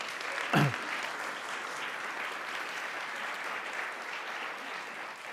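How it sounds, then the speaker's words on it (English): Applause from a lecture audience honoring a colleague and society leader, a steady soft wash of clapping that runs evenly throughout, fairly distant, with one brief louder thump near the start. "So I think we all owe Bob a round of applause"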